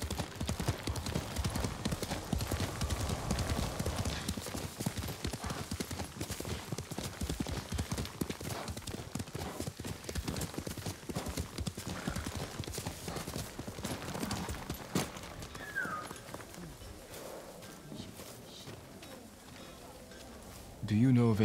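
Horse hooves clip-clop steadily in the samurai video game Ghost of Tsushima, a rhythmic galloping patter that fades toward the end, with a voice talking over it.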